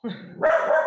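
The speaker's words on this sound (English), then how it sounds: "Oh, sorry, that's my dog." A small, slightly blind dog barks indoors, one loud close bark rising over a low voiced murmur and then holding for a moment.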